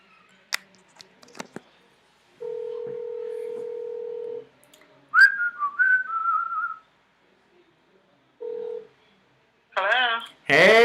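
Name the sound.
telephone ringing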